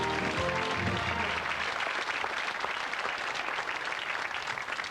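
Studio audience on a 1989 television game show bursts into loud, sustained applause that holds steady throughout, dense clapping filling the space without pause.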